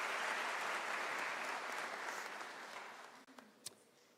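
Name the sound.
applause for the professor at graduation ceremony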